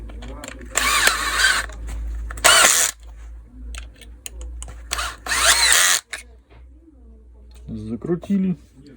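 A power screwdriver drives screws into a Makita JR3051T reciprocating saw during a stator and rotor replacement, with two loud, short bursts of whirring, then two more, separated by quiet handling clicks and a little speech near the end.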